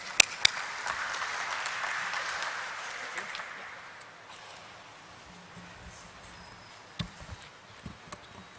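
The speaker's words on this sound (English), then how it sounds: "May I please give him a very warm welcome with a huge round of applause." A dense burst of applause greets a speaker at a corporate stock-listing ceremony, loud for a few seconds before fading away, followed by a quiet room with a few scattered knocks and taps.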